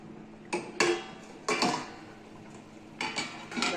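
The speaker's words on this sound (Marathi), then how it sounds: "झाकण ठेवते।" Metal lid set onto a cooking pot of aubergine and potato on a home stove, several sharp clanks and rattles spread out over a few seconds, close by with no talk.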